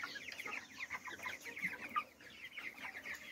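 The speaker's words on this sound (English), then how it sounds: "Alright, so they're basically happy and healthy 28 days, going 29 days old chickens," Four-week-old chickens on a farm cluck and chirp in a soft, continuous, overlapping chatter from a small flock nearby, with no talking.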